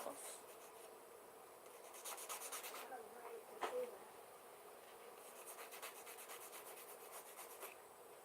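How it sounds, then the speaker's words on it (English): Acrylic nails being filed quickly, quiet scratchy rubbing strokes in rapid bursts, close and faint, with no talking. "I'm filing them pretty fast because I'm just used to just sitting here and doing my nails."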